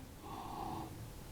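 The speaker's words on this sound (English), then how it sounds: "Breathing in" A steady inhaled breath during a slow floor yoga twist, knees dropped to one side, a soft airy breath swelling in the middle and fading, close and alone with no talk.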